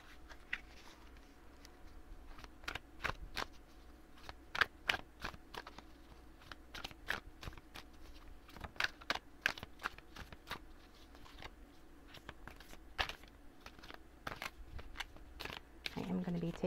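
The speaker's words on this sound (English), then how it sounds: "give these cards a couple more shuffles" Cards riffle and snap in repeated short bursts at close range, with brief pauses between shuffles and faint background noise.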